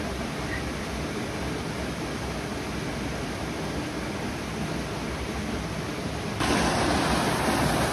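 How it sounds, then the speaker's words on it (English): A mountain creek roars over boulders into a big pool, a steady loud broadband rush of water that continues without a break. "the creek comes roaring over these boulders into this big pool"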